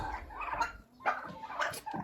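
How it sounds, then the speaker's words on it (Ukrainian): Hens and turkeys in a backyard poultry yard, with several close, short clucks and gobbling calls scattered in uneven bursts over a quiet background. "Ось мої курочки, як бачите, воно американа вже ходять тут"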